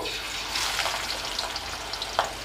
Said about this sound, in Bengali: মাছগুলোকে ভেজে নিচ্ছি। সবগুলো মাছ একসাথেই দিয়ে দিচ্ছি।